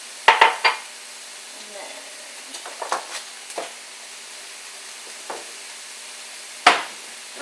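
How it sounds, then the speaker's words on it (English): A whisk works whole milk into an egg-based crustless quiche mixture in a bowl, giving a few sharp, close metal clinks against the bowl. A loud cluster opens the clip, then sparse softer taps follow, another bright clink lands near the end, and a voice briefly speaks. "So I'm going to whisk that in as well."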